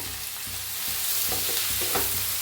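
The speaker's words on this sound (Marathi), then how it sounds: "सगळ्यांना असं छान असं भाजून घेऊया" Cashews, ginger, garlic and green chillies frying in a pan, a dense close sizzle broken by a series of spoon stirs and scrapes, with no one speaking.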